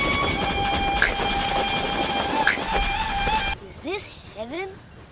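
Steady rumble and rattling hum of a moving train with screeching tones, cutting off to a quieter scene with voices.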